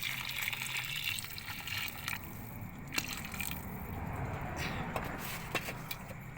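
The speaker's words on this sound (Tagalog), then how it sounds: "Mainit na po yung linagay ko na tubig, pinakuluan ko na" Hot water gushes steadily into a pot, a continuous close splashing pour with a few small knocks along the way.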